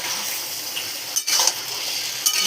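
Pointed gourd and potato pieces frying together in a pan, a steady moderate sizzle with a couple of brief stirring scrapes and clinks partway through.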